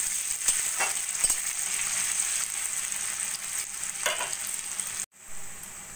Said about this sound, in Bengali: পেঁয়াজটা একটু হালকা সোনালি করে আমি ভেজে নেব